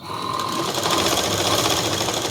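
A sewing machine stitches thread piping along a garment neckline, a rapid, steady mechanical whir running close and unbroken throughout.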